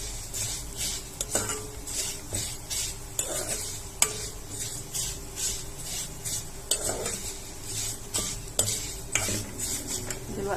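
Vermicelli frying in a pot for Egyptian rice with vermicelli, a continuous soft sizzle broken by repeated clicks and scrapes of a spoon stirring against the pot, close and steady.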